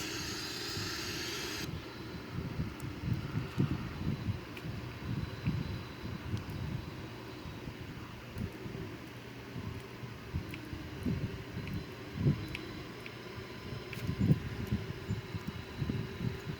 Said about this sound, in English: Have another aircraft here overflying us.